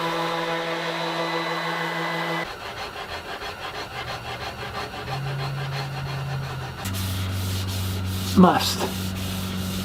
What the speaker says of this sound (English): Hey look, more sanding.